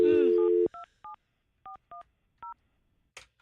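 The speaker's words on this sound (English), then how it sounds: "All right, calling Ted's cell phone" Telephone keypad tones dial a cell phone during a live radio morning show: a short burst of voice, then five crisp evenly spaced beeps, ending with a faint click.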